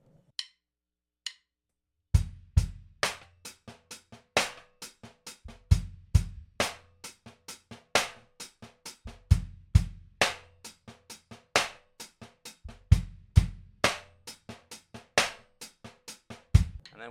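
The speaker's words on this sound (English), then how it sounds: "So all together again, it's going to look like this." A drum and bass groove played on an acoustic drum kit at moderate tempo: a couple of sparse stick clicks, then steady interlocking kick, snare and hi-hat hits repeating in an even pattern, close and alone.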